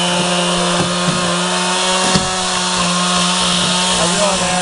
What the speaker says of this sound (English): fire up the chainsaw.